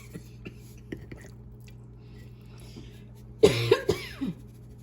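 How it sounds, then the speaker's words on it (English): A person coughs a few times in a kitchen while coating fish for frying, a short burst of harsh, close coughs following faint clicks and soft background noise. "There's that cough."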